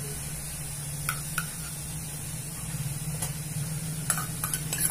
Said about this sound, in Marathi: आता हा मिरचीचा ठेचा बारीक केलेला आहे तो टाकतोय.